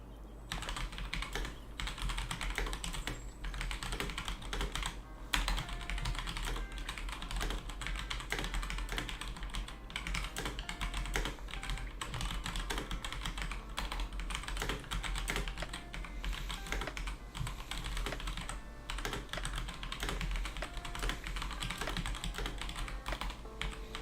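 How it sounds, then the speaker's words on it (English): Continuous typing on a computer keyboard during a typing test, a fast, steady clatter of key taps that is close and even throughout, with no talking. "Okay, I'm still a very slow typer."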